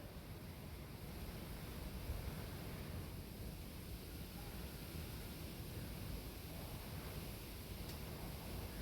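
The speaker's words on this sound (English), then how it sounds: "The wind you're getting is from outside" A steady, faint whoosh of wind blowing outside, heard from indoors, a constant airy hiss with no distinct events and no speech.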